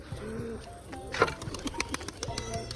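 Pigeons kept in a cage in a village home coo softly and intermittently, with faint wing flutters and scattered clicks amid background voices and household noise.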